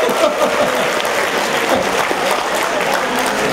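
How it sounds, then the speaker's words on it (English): A lecture-hall audience breaks into brisk, dense clapping, loud and close, sustained evenly for a few seconds. "Now you have to clap."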